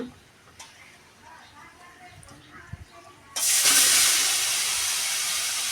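Ghee sizzles loudly in a wok with cinnamon and white cardamom, a sudden bright hiss that bursts in partway through after quieter clinks and continues steadily to the end.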